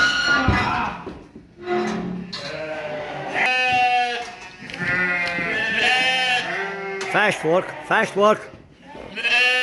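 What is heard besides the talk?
sheep and lambs bleating while being separated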